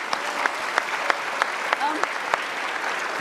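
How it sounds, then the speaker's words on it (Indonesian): A crowd claps steadily, with sharp individual claps popping out from the dense applause throughout. "kita kasih tepuk tangan dong untuk Kinal."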